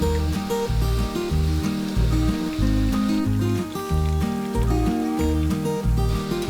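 Cauliflower deep frying in hot oil until crispy and golden brown, a steady dense bubbling sizzle with a constant background hum, fairly close and continuous throughout.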